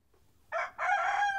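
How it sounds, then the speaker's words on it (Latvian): A rooster crows once, close and clear: a short opening note, a brief break, then a long sustained call, alone against a quiet background. "Gailis skaļi dzied un agri visus modina."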